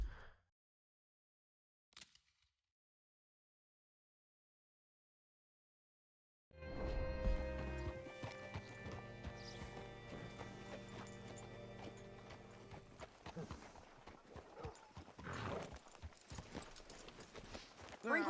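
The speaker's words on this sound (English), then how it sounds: "Hitch your horse up here." Horse hooves clop in the video game Red Dead Redemption 2, starting after several seconds of near silence and continuing as a steady walking rhythm with creaking tack, faint and close.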